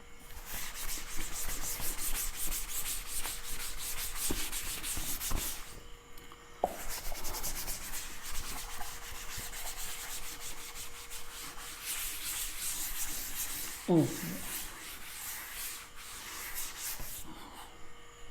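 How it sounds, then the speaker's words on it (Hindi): Chalk writing being rubbed off a classroom board, heard as a close, continuous scratchy rubbing with short pauses and a few sharp knocks partway through. "अब थोड़ा रब कर देते हैं।"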